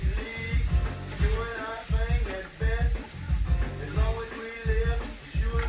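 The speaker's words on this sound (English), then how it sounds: "Stir them around good." Scrambled eggs stirred around a hot pan on a stove with the heat turned off, giving a steady close sizzle broken by regular rhythmic scraping strokes of the utensil against the pan.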